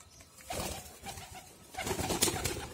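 Soft coos from pet pigeons at a home repeat among other bird calls, moderately close, with a busier burst of calling toward the end.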